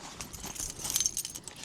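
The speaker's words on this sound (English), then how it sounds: "Keys in the bag" Keys jangle close by for under two seconds, a bright metallic rattling being dropped into a bag beside a pasture on a river while fly fishing, with no talking.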